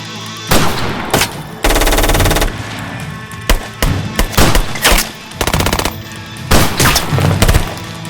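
Heavy gunfire from the action movie Marine 4: Moving Target, loud bursts of automatic rifle and machine-gun fire broken by short pauses, close and dense, with no talking.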